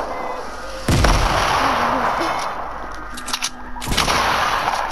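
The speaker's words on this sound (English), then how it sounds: "It's grenades, Tina. No escaping grenades," Grenade blasts in the video game Fortnite: two loud, sharp explosions about three seconds apart, each with a broad rumbling tail, set over constant game noise and background music.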